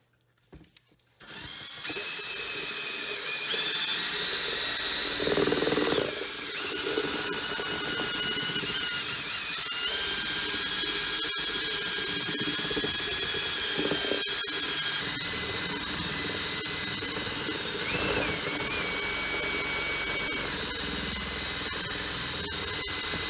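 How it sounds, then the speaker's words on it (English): A power drill fitted with a mixer paddle whirs steadily for over twenty seconds, stirring popcorn ceiling texture compound thinned with water in a bucket, loud and continuous after a short start with slight pitch shifts as it churns. "I'm gonna go get the mixer, and we're gonna mix it up."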